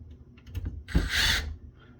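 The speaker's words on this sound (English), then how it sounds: "fancy Milwaukee impact drill" A Milwaukee impact drill whirs briefly while backing screws out of an HP StorageWorks 8/24 SAN switch, a short close burst with a sharp whine rising over light mechanical clicks.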